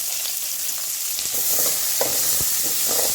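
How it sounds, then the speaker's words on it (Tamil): Onions sautéing in hot oil in a pan for tomato rice, a steady dense sizzle with a few soft stirring scrapes, close and alone without any talk. "வெங்காயம் சேர்த்து நல்லா வதக்கலாம்"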